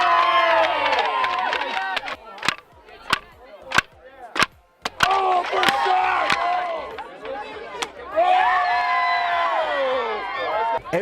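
A crowd of camp peers and staff cheers loudly as campers break through boards. Sharp cracking snaps punctuate sustained whooping and shouting.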